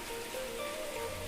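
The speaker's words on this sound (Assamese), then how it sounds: "বাহিৰত পুৰা বৰষুণ" Heavy rain falls outside in a steady, dense hiss that fills the whole moment with no gaps, close and constant, with no voices over it.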